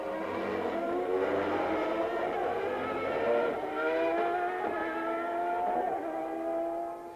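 Formula One cars from the 1993 season race in the wet, Michael Andretti dicing closely with Karl Wendlinger's Sauber; loud, sustained high-revving engines whine and shift pitch continuously with no talk.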